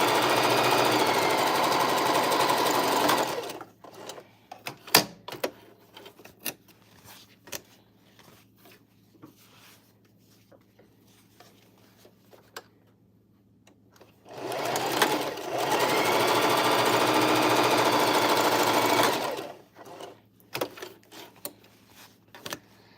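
A sewing machine stitching the seams of a bucket hat, running in two loud steady bursts of rapid stitching, with quieter handling and clicks in the pause between them.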